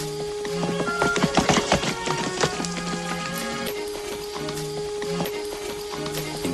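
Horse hooves clip-clop in an uneven trotting rhythm in a 1953 western film, layered with busy background music or ambience and a few sharp transient hits, moderately loud throughout.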